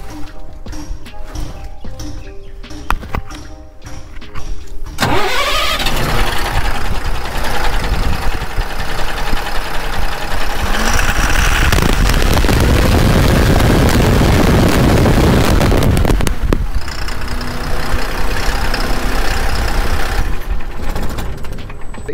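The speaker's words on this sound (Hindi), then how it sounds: "चलिए इसका इंजन का साउंड सुनाते हैं कि साउंड कैसा देखने को मिलता है V6 फेज 2 में" Tata LPT 1923 BS6 Phase 2 truck with a Cummins engine running, a loud steady diesel rumble that kicks in after a few quiet seconds and swells as if revved mid-clip before settling back to a steady run.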